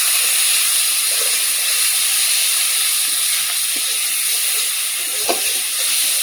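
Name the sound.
coriander-cumin spice paste frying in hot oil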